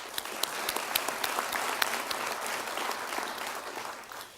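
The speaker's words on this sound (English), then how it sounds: "Please give a big round of applause for Andrew Reed." Audience applause for a student honoree at a high school football awards event, a steady dense wash of clapping with sharp individual claps, continuous and fairly loud with no talking.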